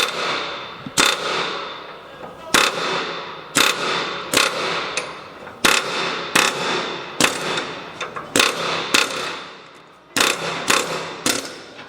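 Sharp metallic bangs from an air hammer tapping metal during a 1937 Lincoln Zephyr teardown repeat in irregular bursts of two or three strikes, loud and close, with short pauses between them.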